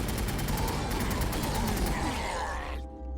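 A heavy cannon barrage in a turn-based Warhammer video game, a dense sustained roar of rapid blasts and rumbling impacts that cuts off abruptly near the end, leaving a faint low hum.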